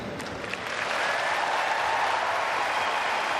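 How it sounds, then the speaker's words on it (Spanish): Spectators at a Wimbledon tennis match applaud scientist Sarah Gilbert, a dense, sustained ovation of many clapping hands that swells slightly and holds steady at moderate volume throughout. "ayer en un partido de Wimbledon, una de las asistentes recibió un emocionante aplauso"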